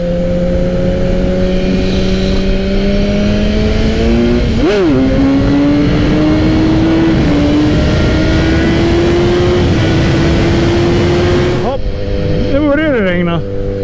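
A tuned BMW S1000R motorcycle is revved hard on a test ride. The loud engine note climbs steadily in pitch under heavy wind rush, with a sharp rev spike partway through and a burst of rapid revving near the end.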